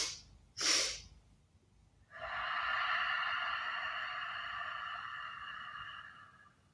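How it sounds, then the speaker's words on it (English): Kids yoga bunny breathing: a short sharp sniff through the nose, then a long drawn-out nasal inhale lasting several seconds, close and clear with no talking. "So that's our bunny breathing."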